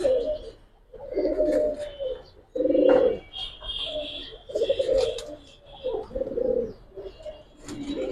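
Giribaz and coloured pigeons cooing inside a loft: a run of low, throaty, rolling coos in repeated bursts, close and fairly loud, with faint background talk and occasional light chirps.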